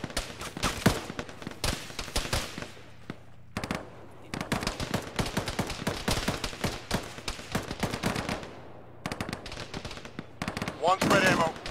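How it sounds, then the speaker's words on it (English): Sustained gunfire in the military video game Arma, with dense bursts of machine-gun and rifle shots across a firefight. The shots come in rapid strings with brief pauses and stay loud throughout. "They're still just shooting at us across the way"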